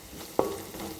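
Ginger garlic paste sizzles in oil in a pan, a soft hiss with one quick stir-scrape partway through, close and fairly quiet.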